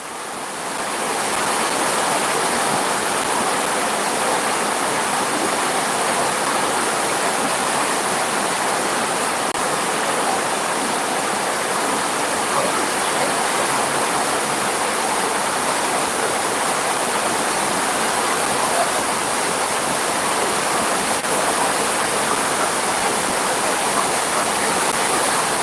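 Steady, dense rain falls throughout, a continuous broadband hiss that stays even and unbroken for the whole stretch, with no voices.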